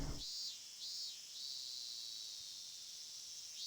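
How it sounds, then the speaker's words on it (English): Cicadas drone in a soundtrack, a steady high-pitched hum that swells and dips in slow pulses, faint and alone after a brief low sound at the start. "I do like this soundtrack where it's just the cicadas humming."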